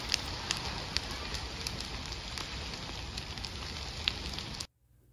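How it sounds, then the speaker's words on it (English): Large campfire burning on a lakeside beach, crackling steadily with sharp pops scattered throughout, fairly faint and close, before cutting off abruptly near the end. "had this absolute monster of a campfire down on the beach"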